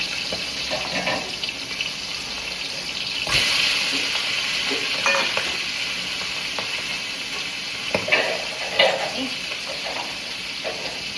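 Turmeric-coated fish pieces frying in hot oil, a steady broadband sizzle and hiss with a louder burst near the start and a few clinks later on.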